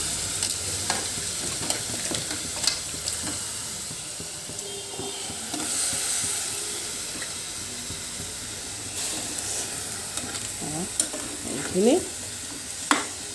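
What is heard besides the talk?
vegetables frying in oil with spices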